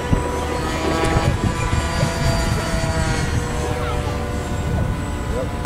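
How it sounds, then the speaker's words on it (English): A jet engine runs in a steady, loud, continuous roar outdoors, with people talking over it. "It has a jet engine."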